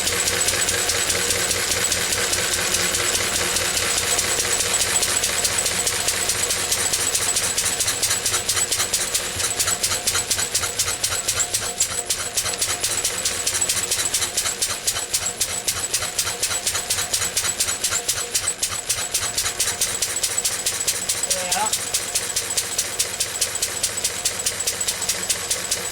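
A Lister D stationary diesel runs steadily nearby, a continuous rapid thumping chug over hissy mechanical noise with no pauses.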